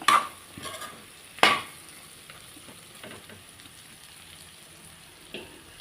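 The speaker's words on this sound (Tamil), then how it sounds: "கத்திரிக்காய் எப்படி நல்லா எண்ணெயில் தக தகன்னு வெந்துக்கிட்டு இருக்கு" Eggplant masala cooks in hot oil in a covered pan, giving a steady, faint frying hiss with a few sharper clatters and pops near the start and middle.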